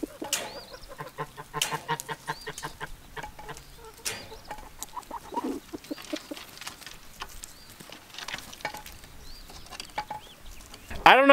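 Chickens cluck and chatter near their eggs, a run of close, repeated soft clucks and purring notes at first, then scattered quieter calls with occasional rustling, ending in a louder burst.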